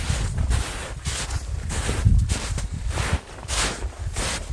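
Gusty wind buffets the microphone in uneven surges on a cold, rainy mountain top at Velykyi Verkh, a low rumbling roar that rises and falls, with a faint rustle underneath.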